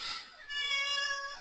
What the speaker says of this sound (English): That's my cat. I don't know if you can hear him.